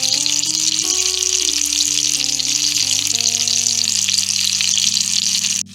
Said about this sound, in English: So now all we're going to do is add our meatballs in. And we're going to brown them for 10 minutes.